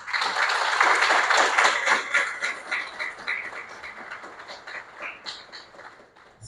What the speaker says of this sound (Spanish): quiero pedir a todos los presentes un aplauso para Su Yun.